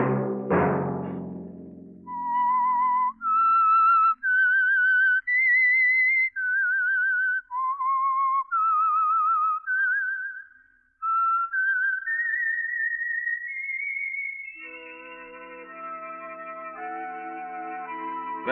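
A lone whistler carries the melodic theme tune of the radio mystery program The Whistler, sponsored by Signal Oil, clear sliding notes in a steady phrase, followed by a sustained orchestral chord with no talking.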